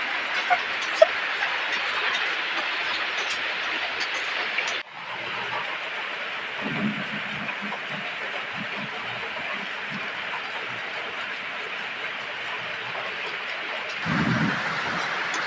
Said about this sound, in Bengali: এইদিকে বৃষ্টি হচ্ছে বন্ধুরা